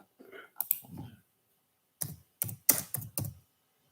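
Keys clacking on a computer keyboard, close and crisp, in a short burst of a few taps, a pause, then a quicker cluster of five or six strokes.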